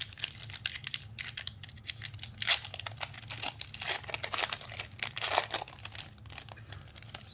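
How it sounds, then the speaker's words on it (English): A Time Spiral Remastered card booster pack is torn open at the top, its wrapper crinkling and crackling in quick, uneven bursts close to the microphone, with no voices. "This pack's open really easy on this top"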